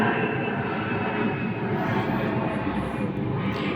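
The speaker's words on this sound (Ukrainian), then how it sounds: "Просто мирний літак по блакитному небу летить." A fixed-wing airplane drones steadily overhead in a clear sky above a garden, a continuous broad engine rumble with no talk.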